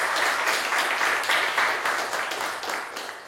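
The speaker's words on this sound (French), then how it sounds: "On applaudit pour mes gars?" An audience at a live stage show applauds, a dense and fairly close patter of clapping that holds steady and then gradually tapers off, with no voices over it.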